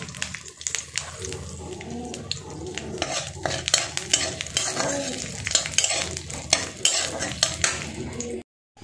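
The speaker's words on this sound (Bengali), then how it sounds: "এরপর এইটা একটু ভেজে নেব" Food sizzles and crackles steadily in hot oil while a utensil scrapes and stirs against the pan.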